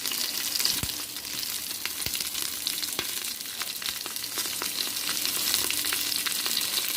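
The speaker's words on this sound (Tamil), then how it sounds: "உப்பு சேர்த்துட்டு நல்லா வதக்கி விட்டுக்கலாம்" Sliced onions with salt sauté in a pan for Chettinad mutton curry, giving a steady, close sizzle with occasional sharp clicks of a spoon stirring against the pan.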